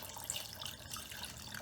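Cold water pours into a food processor over soaked, peeled beans for moi moi, a soft, steady running trickle close by and fairly quiet, with no talking.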